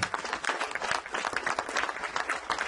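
Applause from the audience at a Nassau County legislature meeting, a dense, steady clapping crowd filling the room for a few seconds without a break.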